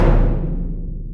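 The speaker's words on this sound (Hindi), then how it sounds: "जो ड्रम हिट्स यूज हुए हैं वो ऐसे हैं" A single deep drum hit from an orchestral arrangement, a loud booming strike whose low resonance decays over about a second.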